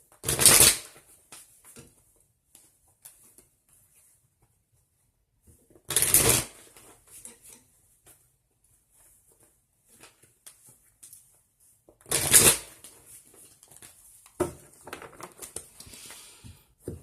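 Tarot cards shuffled in three short, crisp riffling bursts spaced several seconds apart, close and clear against near silence, with faint handling rustles between.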